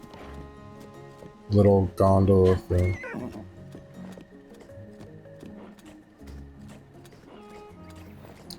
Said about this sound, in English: I'm gonna ride my horse here